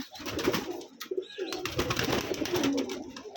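Rajshahi Giribaj pigeons cooing steadily in low, throaty bursts on a pigeon farm, close by and fairly loud, with a few flutters and shuffles in between.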